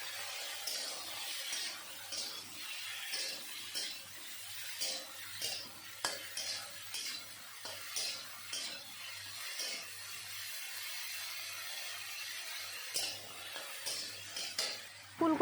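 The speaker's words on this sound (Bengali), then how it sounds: "এই তেলের ভিতরে কেটে ধুয়ে নেওয়া ফুলকপিগুলো ভেজে নেব" Cauliflower florets, washed and seasoned with salt and turmeric, fry in oil in a kadai while a utensil scrapes and stirs them in repeated strokes, with a quiet sizzle underneath.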